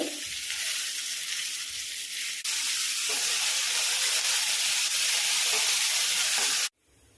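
Chopped tomatoes go into a pan of sizzling onions for paneer butter masala, producing a loud, steady frying hiss that grows stronger partway through and cuts off abruptly near the end, with no talking.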